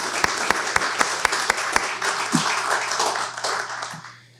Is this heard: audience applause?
yes